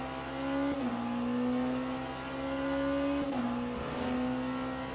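A race car in Le Mans Ultimate circles Monza heading toward the Parabolica, its engine droning loud and steady with two quick downshifts and a brief tire squeal, no voices over it.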